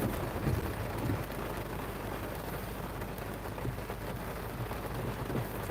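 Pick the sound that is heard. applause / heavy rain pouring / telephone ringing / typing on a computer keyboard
heavy rain pouring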